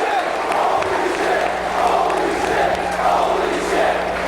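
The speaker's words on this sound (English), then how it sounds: "This crowd going nuts, and they should be." A wrestling arena crowd during a ladder match roars wildly in a dense, sustained wall of cheering and shouting, loud and continuous throughout.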